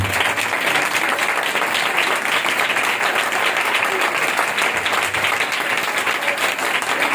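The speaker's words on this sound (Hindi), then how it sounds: "आप जोरदार तालियां बजाएं" A church congregation in Pakistan bursts into loud, sustained applause, dense clapping filling the whole stretch at an even intensity with no pauses.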